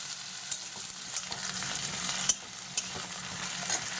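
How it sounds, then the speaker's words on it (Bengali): Potato pieces browning in oil in a pan for a poppy-seed dish, a steady soft sizzle with a few sharp clicks and scrapes as they are stirred, fairly quiet and close. "আলুগুলো আমি কিছুটা ব্রাউন ব্রাউন করে ভেজে নেব"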